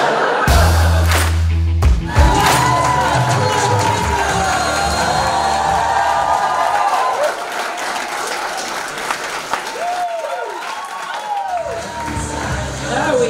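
A comedy club audience at a stand-up show bursts into loud cheering and applause, the roar holding steady for several seconds before easing into scattered clapping and shouts, with a few voices calling out over the crowd.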